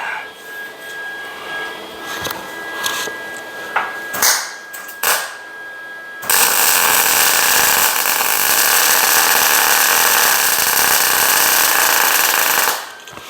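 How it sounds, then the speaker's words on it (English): Welding gas tank cross members onto a 2011 Ford Super Duty truck: several short irregular crackling tack welds at first, then a loud sustained buzzing weld bead lasting about six seconds before it stops. "Down in there, I'll tack it, and then weld it."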